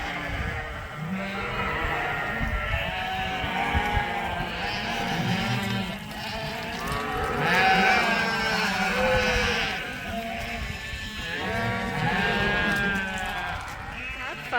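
Rams bleat in a farm yard, several animals calling in overlapping, drawn-out cries that rise and fall in loudness, close by and continuous.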